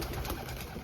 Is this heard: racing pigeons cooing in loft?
yes